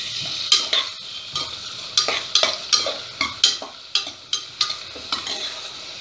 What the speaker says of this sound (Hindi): इसको अच्छे से 1 मिनट तक भून लीजिए।